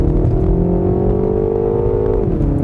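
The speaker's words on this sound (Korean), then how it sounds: "풀악셀 밟아볼게요." A Mini Countryman accelerates at full throttle, its engine note climbing in one steady, loud, close sweep from inside the cabin, then dropping sharply at an upshift near the end.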